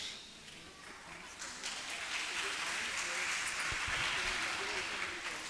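Audience clapping at a summer camp certification ceremony as students come on stage, a broad steady wash of applause that swells after the first couple of seconds and holds loud to the end.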